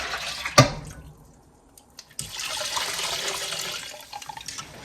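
Water runs steadily into a big pot from a tap for a few seconds after a sharp knock, rising to a broad, even rush of filling water with no talking.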